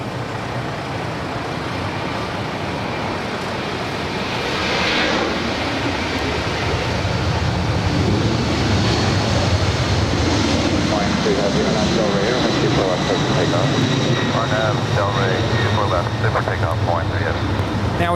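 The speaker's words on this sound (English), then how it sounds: "This is Delta 562 departing to New York. It's a 767-300ER." A Delta Boeing 767-300ER departing Los Angeles International Airport gives a loud, sustained jet engine roar that swells over the course of the clip, while a person talks over it.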